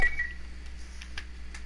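Short electronic phone-dialing beeps sound in The Last of Us Part I, a few quick tones over a quiet low hum, fairly faint and with no voices.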